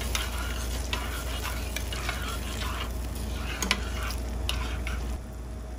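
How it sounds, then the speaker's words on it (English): Tomatoes and onions are stirred in a frying pan for bucatini all'Amatriciana, steady sizzling under scattered scraping spoon strokes, up close, with the hiss dropping slightly near the end. "Give that a good stir."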